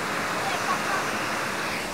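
Steady rushing water flows continuously through a cave, a broad hiss like a stream or small cascade, with no voices.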